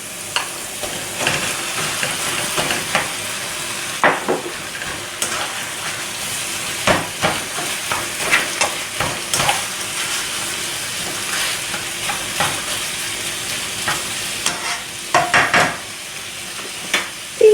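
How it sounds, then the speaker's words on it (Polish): Minced meat frying with onion and garlic for lasagne gives a steady, close sizzle. Frequent scraping clicks of stirring run throughout, with no talking. "Cebulę z czosnkiem należy mieszać."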